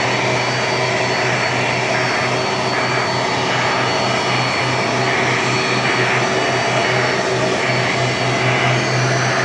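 A Finnair airliner taxis at Sydney Airport on a wet day after landing, its engines giving a loud, steady, close whining roar with a low hum that holds unbroken throughout, with no talking.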